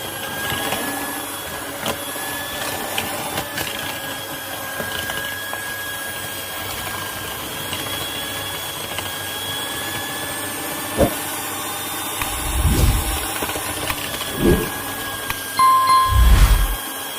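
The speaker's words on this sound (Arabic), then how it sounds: "ونضرب الخليط ده كله مع بعضه لحد ما يديني لون كريمي" An electric hand mixer beats eggs with vanilla and sugar until creamy, its motor whirring steadily throughout with a few louder bursts and clatters near the end.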